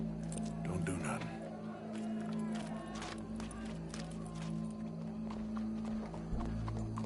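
Horse hooves clip-clopping in the video game Red Dead Redemption 2, a steady muffled beat under continuous background game ambience, with faint crowd noise and talk around it.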